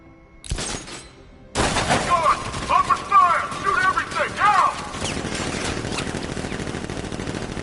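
Rapid gunfire bursts in Batman: Arkham Knight, loud and close, with shouting voices and game effects over dense noise, then a steady rumbling wash after the shooting.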